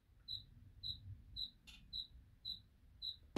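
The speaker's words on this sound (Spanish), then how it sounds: "acá cerca del estudio de grabación andan unos grillos y han estado todo el rato ahí cantando" Crickets chirp at night near a recording studio, six clear, evenly spaced chirps about half a second apart, fairly faint against a quiet background.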